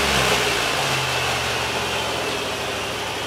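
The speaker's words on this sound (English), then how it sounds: "And I'll do wide open throttle one more time." A Ford 460 EFI V8 held at wide open throttle on an engine with idle trouble, a loud, steady, dense roar that holds without a break for a few seconds.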